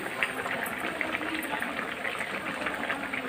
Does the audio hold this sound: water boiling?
yes